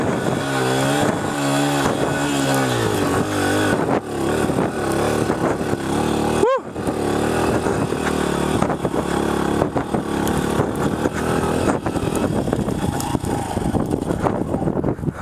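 A Honda CRF100F dirt bike engine labours and revs on a steep hill climb, its loud, rising and falling pitch straining up and down, briefly cutting out midway before pulling hard again.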